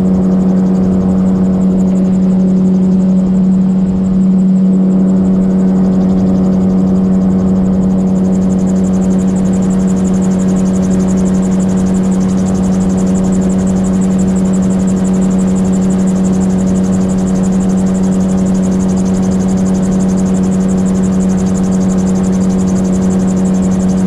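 A gyrocopter's engine drones loud and constant in flight over the Lake District, a steady buzzing rotor-and-propeller hum with strong wind rush, unbroken for the whole stretch without speech.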